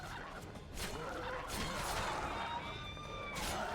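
Chickens in The Witcher 2 video game cluck and squawk amid scattered thumps and crashes of gameplay, forming a busy, moderately loud mix.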